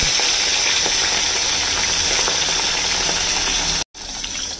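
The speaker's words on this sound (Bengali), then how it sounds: "মাছগুলোকে হালকা করে ভেজে নেব" Steady, dense sizzling of khoira fish frying in hot mustard oil, loud and close, with a brief cutout near the end before the crackle resumes.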